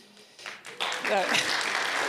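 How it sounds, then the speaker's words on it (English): A panel audience breaks into brief applause after sponsor names are read, the clapping swelling partway in and continuing under a speaking voice. "Y'all are gonna be clapping a lot if you clap after every one of these names"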